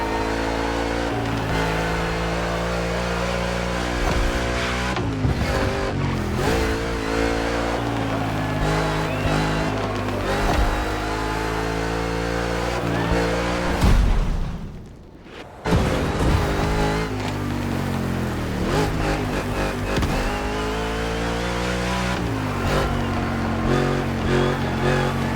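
A Mustang GT race car engine in The Crew Motorfest howls and revs loud and close, climbing and dropping through gear shifts, cutting out briefly near the middle before roaring back, with talk faintly underneath.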